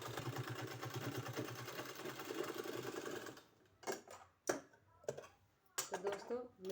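A sewing machine runs steadily in a fast, even stitching burst while sewing a sleeve, then stops; afterward only brief handling clicks and rustles of the fabric follow.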